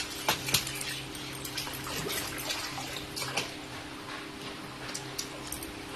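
Twin babies being bathed with water, with close, continuous splashing and sloshing dotted with small knocks and drips, fairly soft and steady.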